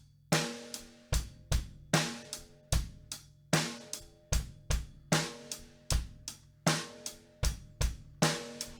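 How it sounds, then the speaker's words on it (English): A drum kit plays a classic bass-snare groove, with kick and snare alternating on a steady beat under crisp, evenly spaced eighth-note hi-hat strokes, close and clear with no talking. "another classic, it's the bass, snare, bass, snare pattern"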